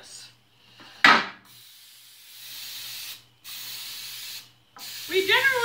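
Cooking spray hissing onto a baking pan being greased for oven-fried red snapper, in several separate bursts: a sharp loud one, a longer softer spray, then a shorter one, with a voice briefly at the end.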